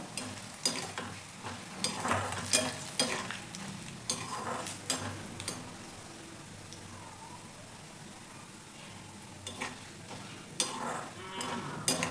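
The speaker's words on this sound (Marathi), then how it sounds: "चॉकलेटी कलर येईपर्यंत मस्त तळून घ्यायचे आपल्याला" Rice frying in hot oil while being stirred until it turns chocolate-brown: a soft, steady sizzle broken by scraping stirring strokes at irregular intervals, close and fairly quiet.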